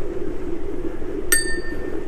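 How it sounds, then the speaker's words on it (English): An old bicycle bell gives a single bright ding that rings on and echoes inside a short tunnel on the Two Tunnels Greenway between Radstock and Bath, heard over a steady low background rumble. "Oh, the old bell sounds good in here."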